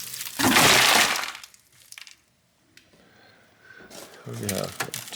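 A non-laminated tempered glass side panel from an internationally shipped computer crumbles and breaks with a loud, sustained crackling shatter, followed by scattered tinkling fragments and a second burst of cracking as pieces settle.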